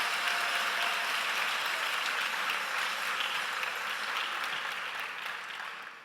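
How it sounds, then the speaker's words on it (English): Audience applause at a school district celebration of excellence event, a dense, steady wash of many hands clapping that carries on for several seconds and tapers slightly near the end. "So please help me give a great round of applause to the Guilford Education Alliance and Lenovo."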